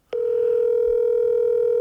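A steady telephone tone on a phone call, starting abruptly after a brief moment of silence and holding one unbroken pitch at a constant, fairly loud level throughout.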